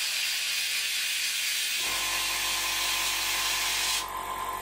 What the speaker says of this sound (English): So I'm just going to spray through until we're getting a good pattern